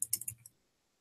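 A short burst of computer keyboard typing in an office setting, several quick clicks in about half a second, then quiet; close and moderately faint.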